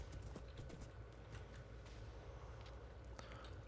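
Steady clip-clop of horse hooves at a walking pace in the video game Flatworld, moderately close, over a dense low background hum.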